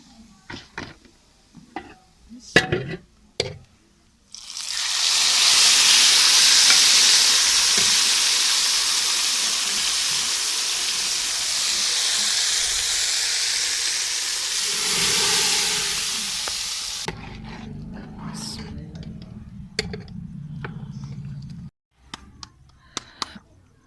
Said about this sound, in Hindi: ये अब मैं लगाने लगी हूँ तड़का प्याज और सुरख मिर्च का